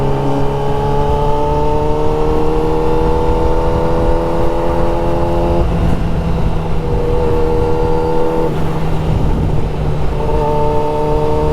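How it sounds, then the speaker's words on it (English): A motorcycle is ridden and shifted down without the clutch, its loud steady engine drone breaking at two abrupt gear changes, then continuing at a lower pitch, with constant wind rush. "No clutch, shift down."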